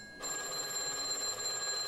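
After a short quiet moment, a bell starts ringing continuously, a bright metallic jangle that stays close and steady until the end.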